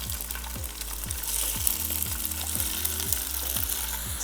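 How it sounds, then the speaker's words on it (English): Turkey sausage sautés in a pan with a steady, fairly soft sizzle, while a utensil scrapes and stirs in a regular rhythm of repeated strokes, roughly two per second, close by. "So now I'm gonna saute this until it's done"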